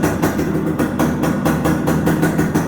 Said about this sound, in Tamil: ஸோ எக்ஸாஸ்ட் நோட் கேளுங்க